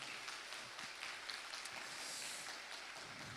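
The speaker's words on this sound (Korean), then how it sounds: "우리 학생의 아이들에게 다시 한번 격려의 박수 한번 부탁드리겠습니다" A church congregation applauding students at a youth worship service, a steady dense wash of clapping from a large room, moderately distant and without talk over it.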